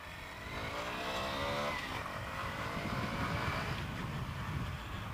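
A Lexmoto Riot 125cc motorcycle sets off on a ride, its small engine note rising and humming steadily as it pulls away, with wind rush over the engine.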